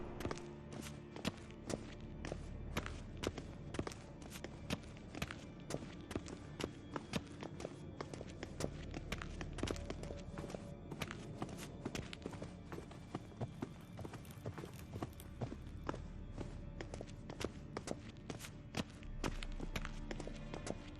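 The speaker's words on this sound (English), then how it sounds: "Footsteps." Steady footsteps from The Witcher 3: Wild Hunt – Game of the Year Edition, a brisk run of hard taps and clops on a firm surface that stays moderately loud and even.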